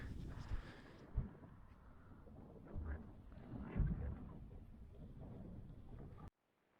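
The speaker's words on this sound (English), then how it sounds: "It's quite breezy now up on the higher ground." Breezy wind on a high-ground plateau near Priddy on the Mendip hills buffets the microphone with a low, rumbling roar. Louder gusts swell and fade, and the sound cuts off abruptly just before the end.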